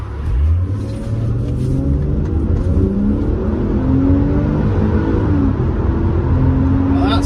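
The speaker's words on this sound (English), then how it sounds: "Oh, it's a fast road. I'm gonna have to floor it." An old Subaru Outback accelerates hard at full throttle, its engine note climbing steadily in pitch and falling back at gear changes, loud and continuous from inside the cabin with road roar underneath.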